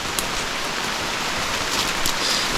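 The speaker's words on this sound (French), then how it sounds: "Il pleut des cordes." Heavy rain pouring steadily in the Peruvian Amazon rainforest, a dense even hiss of falling water with scattered drops, continuous and close.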